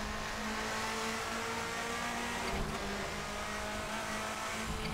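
A 1990s DTM car in Assetto Corsa holds a loud, steady engine note with a sharp rev blip from a heel-toe downshift midway, with no talking.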